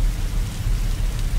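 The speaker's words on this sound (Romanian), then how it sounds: "Cum și plouă." Rain falling under an overcast sky, a steady, dense low rumble of drops on surfaces, continuous and fairly loud with no voices.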